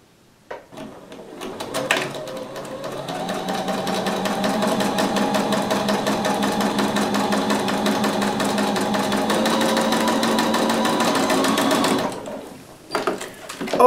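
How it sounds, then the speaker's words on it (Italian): A sewing machine stitches along the opposite side of a fabric autumn table runner, a rapid even mechanical rattle running for about ten seconds, close and steady, with brief handling clicks before and after. "Giriamo e andiamo a cucire il lato opposto."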